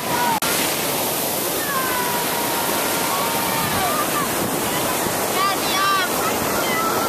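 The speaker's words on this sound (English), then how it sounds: "Waves are kind of picking up though." Ocean surf rolling in at Malibu beneath mountains, a steady broadband roar of waves with no breaks, loud and close, with faint high chirps drifting over the wash.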